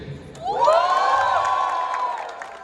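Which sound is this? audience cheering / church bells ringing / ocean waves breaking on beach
audience cheering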